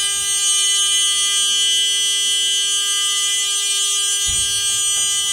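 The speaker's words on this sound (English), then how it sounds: "my rear emergency door opens freely and the alarm sounds" A school bus rear emergency door alarm buzzes continuously once the door is opened, a loud, steady electronic drone that runs unbroken for several seconds, with a couple of brief thumps near the end.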